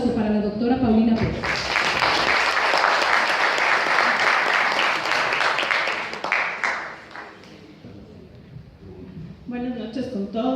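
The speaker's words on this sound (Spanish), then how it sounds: "Por favor, un aplauso" Audience applause at an evening event as a speaker is introduced, a full burst of clapping lasting several seconds and then tapering, with talking before and after.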